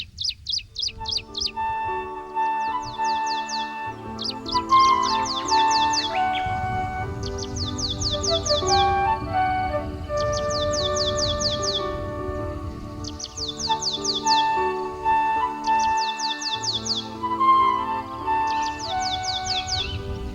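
Wild birds in Sri Lanka chirp and sing in quick repeated bursts of high notes, with tonal calls layered beneath and a dense background chorus running throughout.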